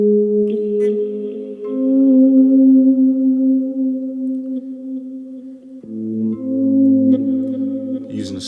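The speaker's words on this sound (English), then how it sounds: "Using a slow gear into an amp with a bit of chorus, and in the backside of that there are 2 delays." Electric guitar through a Boss Katana Air amp with a slow-gear volume swell, chorus and two delays, one modulated: soft swelling sustained notes and chords that ring out, with a chord change partway through.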